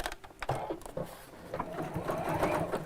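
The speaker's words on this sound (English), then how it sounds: "Let me just do a little bit more of this stitch." A sewing machine runs a zigzag stitch in short uneven bursts, its needle clatter fairly faint and close, starting and stopping over a quiet room.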